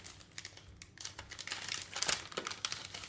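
Kraft paper wrapping is peeled open by hand, giving close, irregular crinkles and rustles that grow busier and louder midway, with sharp crackling bursts.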